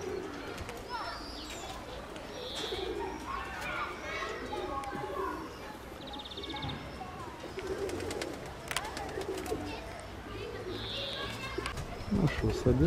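Pigeons coo nearby in soft, repeated rolling calls, with other birds chirping and people talking throughout.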